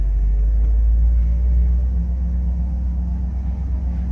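A 1968 Ford F250 truck engine idles in first gear, crawling up a steep incline, giving a steady, loud, low rumble throughout with no voices.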